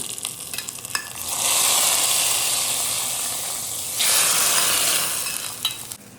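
A tempering of mustard seeds, curry leaves and chillies in oil sizzles loudly and close. It swells into a strong rushing hiss for a few seconds, then eases back to lighter crackling, with no one talking.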